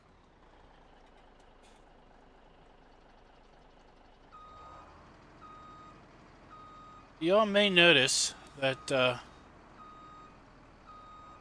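A truck in the Farming Simulator 17 game sounds steady, repeating reversing beeps over a low engine hum, then a voice talks briefly.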